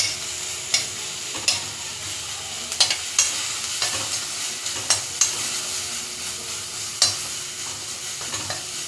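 Garlic and green chili stir-fried in a pan, a constant close sizzle broken by regular sharp knocks and scrapes of a spoon against the pan, with no talking.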